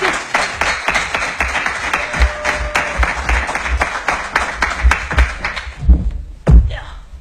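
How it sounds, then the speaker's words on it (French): An audience claps for a performer, loud uneven hand claps and thuds pulsing for several seconds before thinning into a few scattered final claps. "On va applaudir pour mettre tout de suite."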